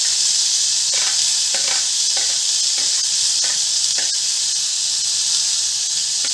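Chillies, beans, carrot and cabbage being sautéed in oil in a pan, a constant bright hiss with a few scraping stirs, close and loud.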